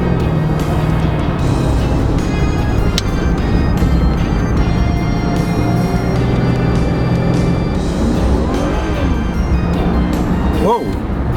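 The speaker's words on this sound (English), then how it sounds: "let's give the engine a little test right here." A Jaguar XJ8 Vanden Plas car engine roars loudly and steadily, rising in pitch as it revs, with a voice talking faintly underneath the constant drone.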